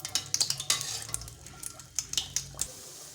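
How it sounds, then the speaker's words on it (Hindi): Poori frying in hot ghee in a pan, with a soft sizzle under sharp clinks and scrapes of a metal utensil pressing and turning the dough. The sound is close and uneven. "अब हम अपनी पूड़ी फ्राई कर लेंगे।"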